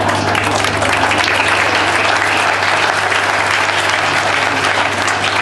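Spontaneous applause from an audience gathered at a church ceremony, a dense, steady burst of clapping that stays loud and even for several seconds with no talk over it.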